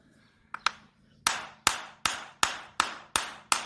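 A farrier's hammer sets horseshoe nails in a horse's hoof over a hardy block, with two light taps and then seven sharp, evenly spaced ringing blows, close and loud with no talk.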